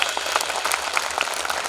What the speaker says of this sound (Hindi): अब यदि मेरी बात अच्छी लगी तो ताली बजाना।